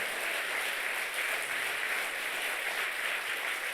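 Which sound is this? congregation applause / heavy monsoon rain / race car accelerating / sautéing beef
congregation applause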